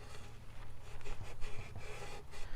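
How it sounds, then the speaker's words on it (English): Brillo pad scrubbing grime out of the crevices of a valve cover on a Toyota 2.4L 2AZ-FE engine, a steady close rasping rub that keeps going throughout with no talking. "So now I'm going to take my Brillo pad and I'm going to go ahead and start cleaning out these crevices really"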